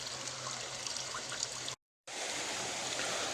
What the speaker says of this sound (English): we still got some water coming onto the side right here. One area, small little drips